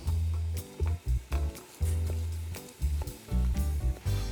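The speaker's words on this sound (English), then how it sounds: "So that's frying nicely." Lemon butter chicken frying in a pan with white pepper, giving a steady close sizzle broken by short bursts of stirring and scraping, with no talking.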